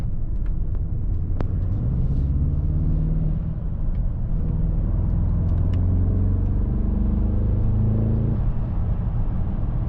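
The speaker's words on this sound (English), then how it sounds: "It's pretty crazy how this car can pick up the pace." A 2025 Mercedes-AMG S63 E Performance sedan accelerates hard, its engine building to a steady, loud low rumble with rising tones heard from inside the cabin, no talking over it.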